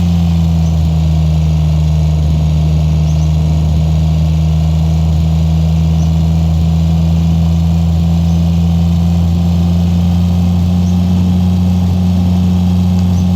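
Stock non-turbo car engine in a video game, the car with a damaged front wheel, holds a steady low drone throughout, loud and unbroken with no voices.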